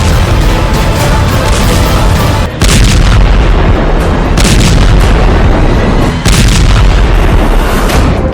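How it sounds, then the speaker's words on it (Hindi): Israeli air strikes pound Beirut with heavy explosions, loud and sustained. The booming rumble is broken by a few brief gaps, with dense low-end blasts that overwhelm the recording. "लेबनान की राजधानी बेरूत धमाकों से दहल गया"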